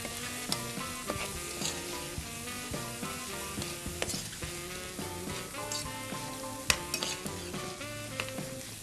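Bread stuffing with toasted walnuts stirred in a pan, with soft sizzling and occasional spoon clinks against the pan beneath steady background music, no voices.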